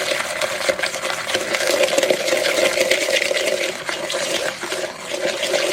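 Cake batter with egg is stirred around a bowl for a peach coffee cake, a continuous close scraping and sloshing swirl with a rhythmic, slightly uneven texture and no talking.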